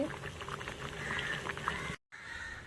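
Whole potatoes in their skins boiling in a pot of water, a continuous close bubbling and gurgling that cuts out briefly near the end before resuming.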